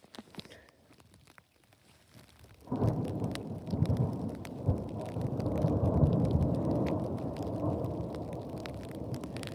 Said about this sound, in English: Thunder and lightning still going.